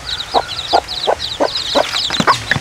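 Native hen and newly hatched chicks in a new coop, clucking and peeping in short repeated calls, close and fairly loud, with no talking.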